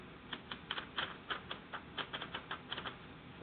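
Remington Standard No.7 typewriter with a small sheet of paper being fed and spun through its rollers, giving a run of close, distinct clicking and ratcheting ticks at an uneven rhythm, quiet and with no voices.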